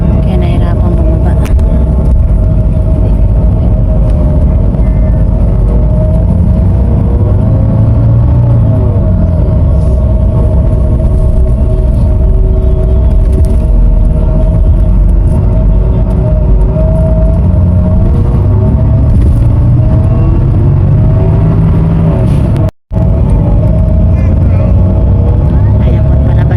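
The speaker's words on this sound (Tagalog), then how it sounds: "palabas na po itong bus natin dito sa Batangas Port" A bus pulls out of Batangas Port, its engine giving a steady, loud low rumble throughout with a slight rise and fall in pitch, and a brief dropout near the end.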